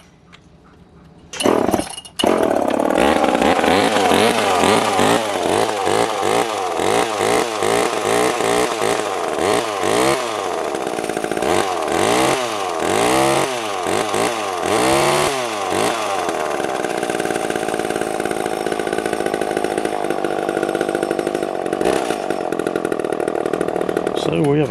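A Homelite Super EZ Automatic chainsaw with a tight bar and chain, starting with a short pull and then running steadily at high idle, a loud close buzzing drone with slight wavering in pitch, continuing alone for over twenty seconds.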